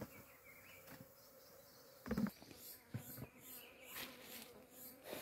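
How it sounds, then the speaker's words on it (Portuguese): Bees buzz steadily at a rock crevice packed with honey, a continuous insect drone with a few louder bursts as bees pass close, heard outdoors with no talking. "Quando nós sair daqui, nós vai brotar a abelha."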